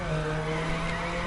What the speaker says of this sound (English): I was drifting my car.